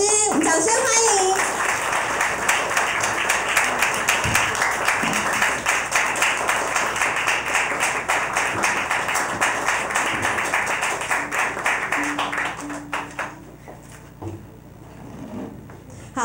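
An audience at a violin showcase concert gives sustained clapping to welcome violinist Janet and her accompanist, dense and steady before tapering off near the end, with a host's voice over it.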